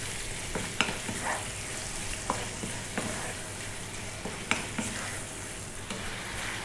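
Seasoned beef sizzles steadily in a pan over below-medium heat, with occasional scraping and clinks as it is stirred; a continuous close frying hiss with no voices.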